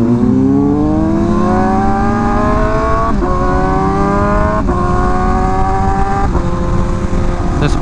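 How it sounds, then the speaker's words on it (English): A Honda Fireblade motorcycle roars continuously while being ridden. The engine note climbs steadily through several gears, with brief dips at each shift. It is loud, close and steady throughout. "This bike sounds so loud."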